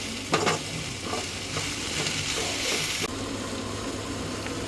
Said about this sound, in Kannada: ಸಿಮ್ಮಲ್ಲಿ ಇಟ್ಕೊಂಡು ಫ್ರೈ ಮಾಡಬೇಕು